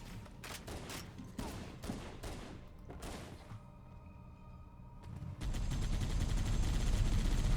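Rapid bursts of gunfire in the Halo video game crackle through the first half, then give way to a louder, dense wash of continuous shooting and noise toward the end.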